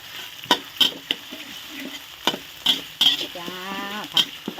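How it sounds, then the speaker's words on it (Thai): Red curry paste is stir-fried in oil in a pan for crispy fried catfish with pea eggplant: sharp spatula clacks and scrapes land in uneven bursts over a low sizzle, and a brief bleating animal call sounds in the background. "ให้ขึ้นมันก่อนผัดพริกให้เหลือง ให้เหลืองให้หอมก่อนจ้าพริกแกง"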